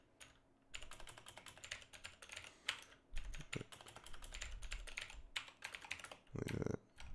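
Keys clatter steadily on a computer keyboard during a development livestream, close and fairly quiet, with quick irregular bursts of typing broken by brief pauses and a few heavier thumps.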